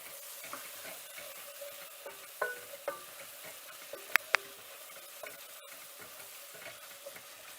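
Chili powder and garam masala being stirred into vegetables in a pan for spicy Indian-style white sauce pasta, a soft steady scraping over a faint sizzle with a few sharper clicks of the spoon midway.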